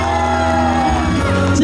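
Concert crowd at a lantern festival in Dalin, Chiayi, screaming and cheering for a singer on stage, a loud sustained roar of many voices with yells rising above it, close and continuous.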